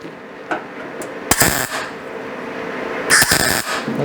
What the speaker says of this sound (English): I'll take my clamps off.